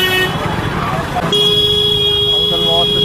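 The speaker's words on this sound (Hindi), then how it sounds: "हॉर्न दे रहे हैं" A car horn honks in a sustained, steady tone amid road traffic noise, close and loud.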